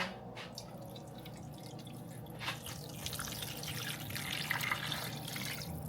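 Water added to a pot while cooking a homemade Easter Sunday dinner, a steady close trickle and splatter running for several seconds under low kitchen noise.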